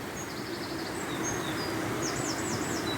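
Birdsong along the Water of Leith walkway in Edinburgh, several birds trilling and chirping in repeated high phrases over a steady outdoor background hum, fairly faint and with no talking.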